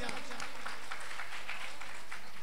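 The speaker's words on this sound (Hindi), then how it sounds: "इनके लिए जोरदार तालियां बज जाएं।" An audience gathered under a pandal at a Shrimad Bhagavat Katha religious recitation in a village breaks into loud, continuous clapping, a dense and steady wash of applause with a low hum underneath.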